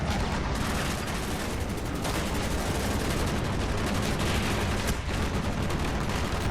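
Gunfire in Call of Duty: Black Ops, a dense, continuous barrage of rapid shots and bursts, loud and close, running steadily for several seconds without talk.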